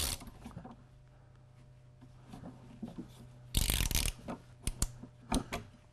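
Ratchet pipe cutter clicking as it cuts through copper pipe during a frost-free faucet installation, with sparse ratchet clicks, then a louder burst of grinding and scraping and a few sharp clacks, close and without talk.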